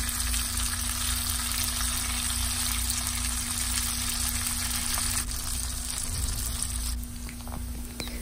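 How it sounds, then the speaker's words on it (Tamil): Street-style prawns frying in a pan give a steady, close crackling sizzle that holds evenly throughout, with a constant low hum beneath it. "இப்போ நம்மளோட ஸ்ட்ரீட் ஸ்டைல் ப்ரான்ஸ் வந்து சூப்பராக ஃப்ரை ஆயிடுச்சு."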